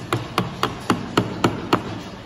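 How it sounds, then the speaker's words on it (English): Light mallet taps on a chisel trimming a wooden lap joint, about eight evenly spaced sharp knocks over two seconds, close and clear against a quiet room. "I'm doing about a mil at a time and very light taps."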